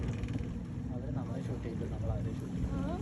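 Boat ride on the water at Hatta, with a steady engine and water rumble plus wind buffeting the microphone, while people talk over it.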